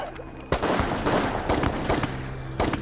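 A firing squad's rifles go off in a volley, with loud sharp blasts repeating about once a second over rumbling background noise, near and forceful.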